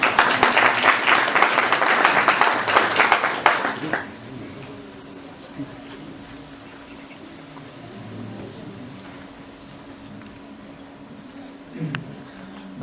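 Audience applause welcomes a conservation and restoration worker from the Cusco archdiocese, a dense burst of clapping for about four seconds that stops abruptly, followed by quiet room tone with faint murmurs.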